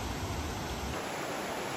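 A tiny brook crossing a forest trail in Slovenia's natural landscape, its water babbling in a steady, close, broadband rush that holds continuously throughout, with no voices.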